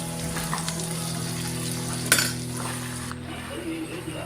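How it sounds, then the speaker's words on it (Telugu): Washed amaranth leaves fry in a pan, giving a continuous close sizzle while being stirred, with occasional utensil clinks and scrapes against the pan. "మనం కడిగి పెట్టుకున్న తోటకూర కొద్ది కొద్దిగా వేసుకుంటూ కలుపుకోవాలి"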